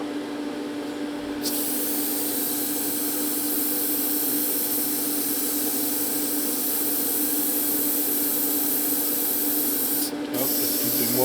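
An airbrush is rinsed and sprayed clean during work on a Suzuki RG250, giving a loud, steady, close hiss that runs almost unbroken for about ten seconds with one brief gap.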